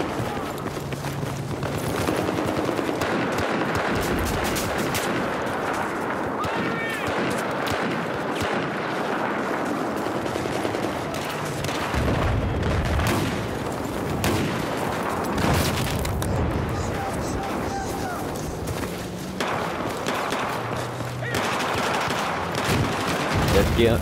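In a Battlefield video game, rapid automatic gunfire mixes with booming explosions in a dense, continuous barrage that runs the whole way through, with a voice faintly mixed in.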